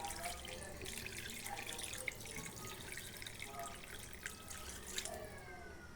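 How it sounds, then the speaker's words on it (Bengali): Water pours in a steady, fairly faint stream into a pot of layer chicken curry, a continuous trickling splash with no talk. "পুরো আধা লিটারের উপরে পানি দেওয়া হলো"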